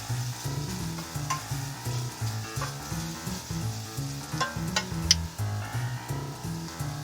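Food browns in a very hot frying pan during keto cooking, a steady close sizzle with occasional sharp pops, heard beneath a rhythmic musical bed of low, regular notes.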